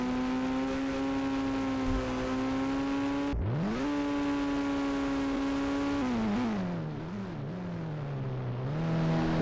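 A Mahindra Thar monster truck engine in a driving video game, a steady droning rev that drops sharply, climbs back and wavers in pitch, continuous and loud with no voices.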